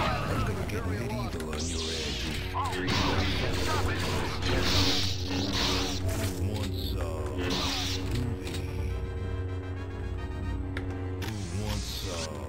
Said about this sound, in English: long ass elevators